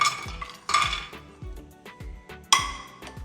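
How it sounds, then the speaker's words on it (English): Cashew nuts clinking and rattling into a pan of almonds being roasted, several sharp clinks with a few louder bursts of nuts dropping and scraping against the metal, close and with no talk. "Almost almond is done, so I'm gonna add cashew nuts in there."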